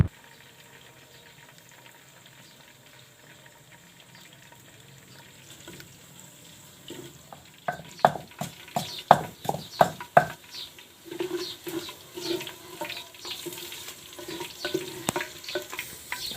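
Onions frying in a clay cooking pot, with a quiet low sizzle at first and then a run of sharp scraping and stirring clatters over steady frying, close by with no talking.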